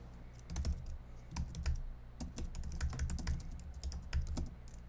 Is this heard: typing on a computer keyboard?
yes